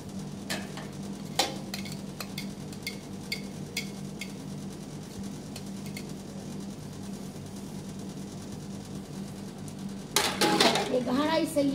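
Pots and utensils are washed by hand in a village, with sharp clinks and scrapes of metal dishes knocking together, then louder clattering near the end, under a low steady hum and occasional voices.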